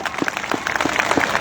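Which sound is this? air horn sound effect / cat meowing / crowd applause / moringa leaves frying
crowd applause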